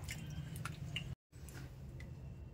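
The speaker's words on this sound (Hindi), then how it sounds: "अब इसमें छेने को डाल के और साफ से अच्छे से हमें छेने को धुल लेना है।" Chhena, fresh cottage cheese, is washed by hand in plain water, giving soft squishy sloshes and small drips close by, with a brief silent gap partway through.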